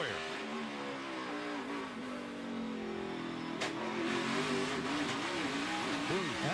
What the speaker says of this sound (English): That's bottoming out right there on those rumble strips